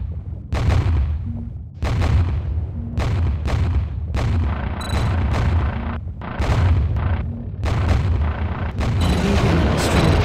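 Repeated heavy explosions as enemy units are blown up in the strategy game Parkan: Iron Strategy, about eight loud booming blasts in an irregular rhythm, each with a sharp crack and a low rumbling tail.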